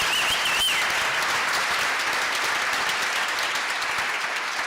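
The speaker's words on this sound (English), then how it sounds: "Can we give her another round of applause, please?" An audience at a reception applauds a speaker, a dense, sustained wash of clapping from many hands that stays loud and even from start to finish, with a brief whistle near the beginning.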